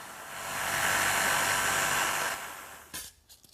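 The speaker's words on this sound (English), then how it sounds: "I'll finish it with my jigsaw." A jigsaw cuts a slot through wood, its steady, close, hissing whine building and holding for a couple of seconds before cutting off, followed by a few light knocks.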